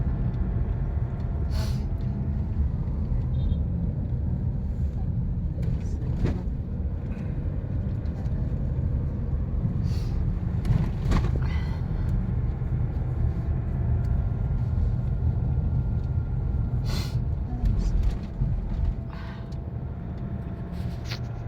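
Steady low road-traffic rumble with passing car noise from a street, continuous and moderately loud throughout, with a few brief sharper sounds.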